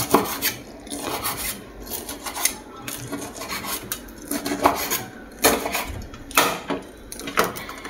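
Food is cut up while making sour-spicy chicken rice, with close rhythmic knife strokes scraping and tapping against a board and utensils roughly every half second.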